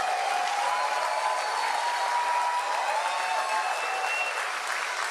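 A crowd at a Brazilian government cultural event with President Lula claps in steady, sustained applause that stays even and fairly loud throughout, with no voices standing out.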